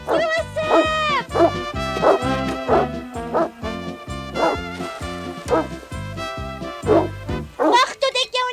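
A dog in an animated children's series barks and yips in a rapid, repeated run, loud and near, with a cartoon score playing underneath.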